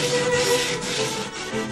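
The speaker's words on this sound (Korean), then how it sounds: "가죽의 표면을 부드럽게 만들기 위해 고운 입자의 사포로 사포질을 해준다." Fine-grit sandpaper rubbing across a leather surface to smooth it, a steady close scratchy hiss with faint back-and-forth strokes and no talk.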